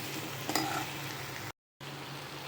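Tomatoes frying in a pan with onion and capsicum for a capsicum masala gravy, a steady close sizzle with light stirring clicks, broken by a brief gap of silence.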